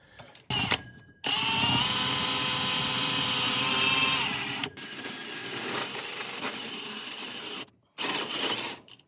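A power drill fitted with a fresh bit runs at high speed for several seconds, whining steadily with a few short bursts before and after, close and loud, during work on an S-10 chassis brake and steering swap.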